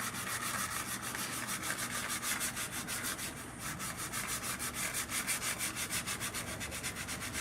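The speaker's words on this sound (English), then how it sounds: "it does have to do with the sander" A sander works a spiral pipe stem with a continuous loud abrasive rubbing, pulsing rhythmically throughout, close up and alone without talk.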